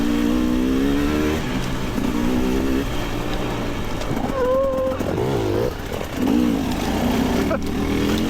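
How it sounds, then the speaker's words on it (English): Dirt bike engines rev and whine past on a Nova Scotia two-track trail, loud and close throughout, their pitch rising and falling as bikes accelerate, with a brief dip near the end before the roar returns. "Dirt bikes."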